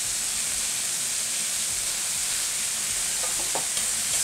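Pork medallions sear in a stainless steel pan, giving a steady, close sizzle and hiss that runs without a break, with a few faint clinks near the end.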